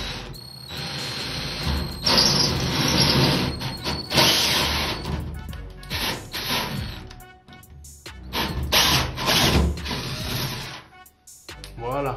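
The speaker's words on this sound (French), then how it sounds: "Et on perce droit." A drill bores a hole straight up into a plasterboard ceiling while a self-supporting suspended ceiling is being fitted, a loud continuous whirring grind lasting several seconds with short pauses and a dip near the end.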